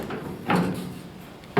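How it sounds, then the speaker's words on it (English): A door on a 1964 Chevrolet Impala is shut twice, each a short solid thud with a brief rattle, close and fairly loud over a quiet garage background. "When I close this door"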